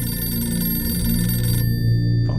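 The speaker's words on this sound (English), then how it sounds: "Phone's ringing." A telephone rings with a steady electronic bell tone, loud and close, sustained for about a second and a half before stopping abruptly, leaving a low background hum.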